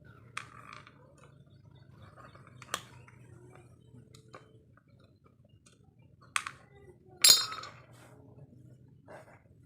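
Screws and nuts come off the IC heat sinks of a 2030A home theatre amplifier board with sparse, faint metallic clinks and taps spread over a quiet background.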